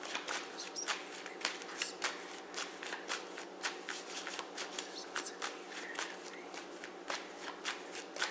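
Tarot cards are shuffled by hand in quick riffling bursts, close and fairly quiet, repeating steadily without talk.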